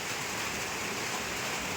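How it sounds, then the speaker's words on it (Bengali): Heavy monsoon rain pours down in a dense, unbroken roar of drops hitting surfaces outdoors, steady and enveloping without any talk. "এই দেখেন পুরো বৃষ্টি একদম তুমুল হারে চলতেছে।"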